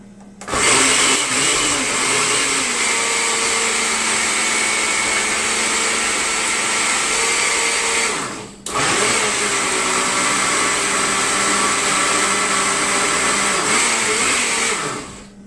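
A blender mixes a green health smoothie with a loud, steady, high whirring drone that runs for about eight seconds, stops briefly, then starts again for another long, unbroken run. No talking.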